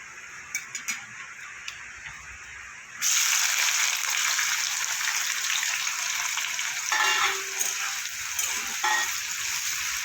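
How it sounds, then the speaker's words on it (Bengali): Chopped onion frying in oil with black cumin and dried chillies, a faint background start before a loud, steady hiss of sizzling takes over partway through, with a few brief clinks. "পেঁয়াজটা আমার কিছুটা ভাজা হয়ে গেছে"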